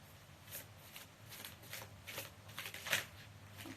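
Oracle cards shuffled by hand with some flying out of the deck, soft repeated riffling swishes in an uneven rhythm, close and fairly quiet with no talk.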